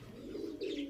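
An Aliwala 35 pigeon in a loft gives a brief, faint low coo, a single soft rolling call lasting about a second.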